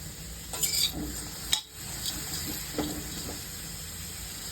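Bitter gourd being sautéed with rock salt in a pan: a soft, quiet sizzle under occasional stirring scrapes and a few light clinks, close by.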